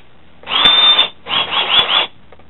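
A Clark 24-volt cordless drill whirs in two short bursts, the first about a second long, then a brief pause and a second burst with slight speed changes.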